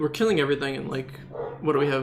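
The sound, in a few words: dog barking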